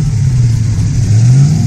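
A De Tomaso Pantera's 5.8-litre Ford 351 Cleveland V8 revs close by, its deep steady drone rising slightly in pitch toward the end with no one speaking.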